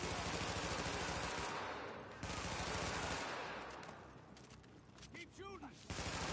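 Automatic and rapid gunfire from the video game The Division, loud bursts filling most of the stretch with a brief lull midway, then resuming with mechanical clatter and a voice heard faintly underneath.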